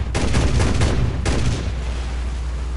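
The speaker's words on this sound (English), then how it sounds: "Get him as he's coming out. And start firing." Aircraft machine guns fire at a P-40 in the War Thunder video game, two quick loud bursts of rapid gunfire close together over a constant engine roar.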